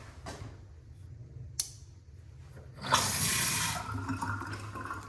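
Water gushes from an unusual faucet fixture in a newly built home's kitchen or bathroom, turning on loudly after a quiet stretch with a sharp click and continuing as a steady rushing stream.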